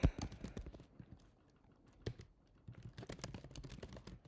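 Keystrokes on a computer keyboard, typed in irregular bursts of quick clicks with short pauses between them. The sound is fairly quiet and close, and no one speaks.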